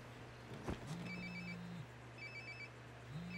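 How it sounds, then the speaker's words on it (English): A phone rings in the video game Life is Strange: Before the Storm, an electronic trilling tone repeating in two bursts over a low steady background hum, with a short thud just before the first ring. "phone call from Hoomst."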